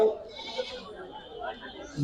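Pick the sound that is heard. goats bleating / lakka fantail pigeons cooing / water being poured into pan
goats bleating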